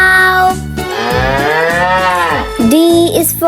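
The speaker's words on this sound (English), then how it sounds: "C is for cow." A cow moos in one long, loud, sustained call that bends in pitch, followed by a shorter second moo, set against a bouncy children's song backing.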